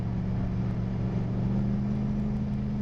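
A steady, loud engine drone with a strong low hum from a Canadian-built car, running continuously on a cold day with below-freezing temperatures outside.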